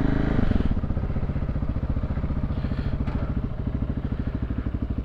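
A Honda CB125 TD Super Dream cafe racer, its valve clearances just adjusted, idles close by with a loud, steady, evenly pulsing engine beat that carries on throughout.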